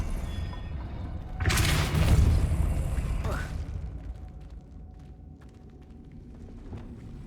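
Depulso spell cast in a Wizarding World video game, a sudden broad whooshing burst that swells and fades over about two seconds, followed by lighter game sounds and soft clicks, with a voice speaking over it.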